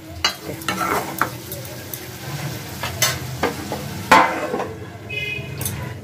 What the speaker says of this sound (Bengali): এবার ভালো করে সব কিছু কষিয়ে নেব